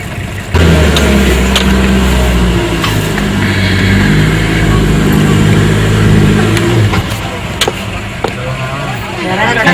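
A car engine kicks in abruptly and runs close and loud with a steady droning hum and rising revs for several seconds, then falls away, while faint background voices and clatter continue around it.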